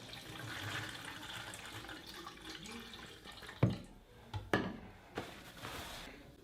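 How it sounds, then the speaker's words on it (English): Warm water at 105 degrees runs over a sink and is poured into a three-roll Paterson film developing tank: a faint steady trickle, then several sharp splashes and clunks near the end. "pour the 105-degree water in there"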